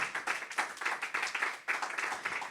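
A church congregation claps together during a service in steady, rapid applause, dense and fairly loud throughout, with no talking over it.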